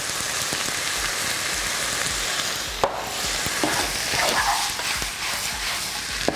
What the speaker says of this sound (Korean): 넣고 볶아주시면 됩니다.